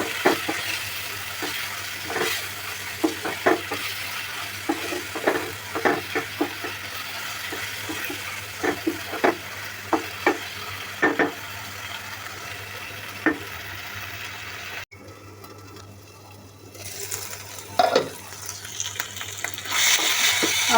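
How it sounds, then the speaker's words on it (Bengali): Potatoes frying with spices in a pan, stirred repeatedly: a continuous soft sizzle broken by frequent scraping and clicking strokes of the spoon, close and steady throughout. "আলু মশলা একসাথে কষিয়ে নিচ্ছি।"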